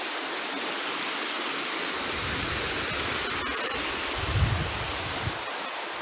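Steady broadband rushing of falling water, continuous and fairly loud, with a faint low rumble swelling briefly near the end.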